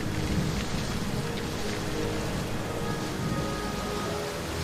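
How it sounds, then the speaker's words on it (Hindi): Steady rain pours down with low thunder rumbling beneath it. The dense, constant wash of storm noise fills the whole clip at an even level, with no voices, and sets the scene for a horror story. "अब इस बार रात्रा बारिश में खड़ा तो था"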